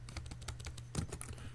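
Quick, soft clicking of keys on a computer keyboard, a brief burst of typing with irregular taps and a slightly louder cluster near the end, heard close and quiet.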